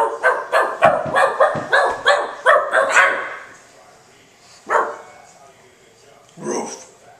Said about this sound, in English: What does a dog say?